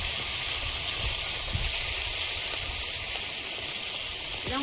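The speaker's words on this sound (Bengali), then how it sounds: "এবার পুঁটি মাছগুলো ভেজে নেব" Small puti fish fry in oil in a pan with a dense, steady hiss and crackle, loud and close, with no voices.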